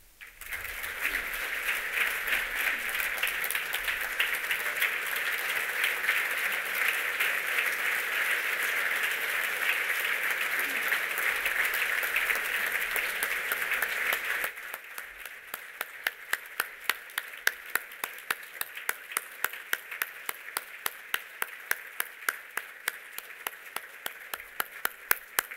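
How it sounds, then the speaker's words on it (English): A keynote audience at a fraternity leadership gathering claps, first as a thick, loud roar of applause, then dropping midway into a sparse, rhythmic unison clapping with sharp, evenly spaced hits. "Another round of applause, guys."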